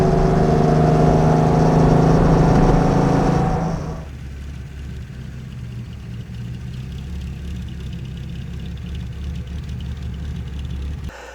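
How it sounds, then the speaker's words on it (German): A 1955 Mercedes 300 SL Gullwing engine runs steadily with a loud, even rumble, then drops to a lower, quieter idle drone partway through and holds it until the end. "der Motor, der hört sich super an. Der läuft sehr, sehr gut."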